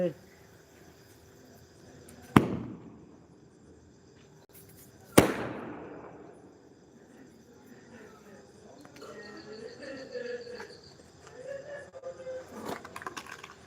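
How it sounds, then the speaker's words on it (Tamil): Two sharp, loud firecracker bangs a few seconds apart ring out in a quiet outdoor setting, followed by faint voices and chirping. "போதும் பட்டாசு நாளை வெடிக்கலாம்."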